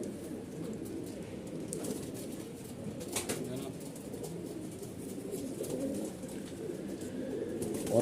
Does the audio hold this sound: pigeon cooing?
yes